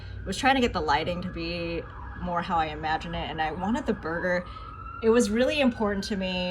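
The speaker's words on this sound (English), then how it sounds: "Sorry about the sirens." Emergency vehicle sirens wail faintly outside, a steady rising-and-falling tone running beneath a person's continuous talking close by.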